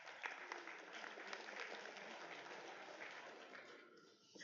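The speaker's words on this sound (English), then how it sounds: "So round of applause for our trivia winners." Audience at an astronomy talk in a bar giving a round of applause for trivia winners: a quiet, steady crowd clap heard from a distance that holds evenly and then fades near the end.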